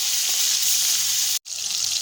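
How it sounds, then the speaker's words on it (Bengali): Whole spices fry in oil left over from frying hilsa fish, a close, steady hiss of hot oil with one brief cut-out partway through. No speech. "ফোড়নটাকে 1 মিনিটের মতো ভালো করে নেড়ে চেড়ে ভেজে নিতে হবে"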